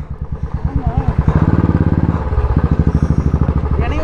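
A motorcycle engine runs close by with a loud, rhythmic thumping putter that steadies into a fast, even beat, and a voice talks over the start.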